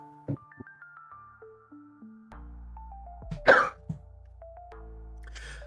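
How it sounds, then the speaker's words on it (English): One sharp cough bursts out amid a sequence of descending electronic melody tones, followed by a smaller throaty sound. "More from the coughing than anything else."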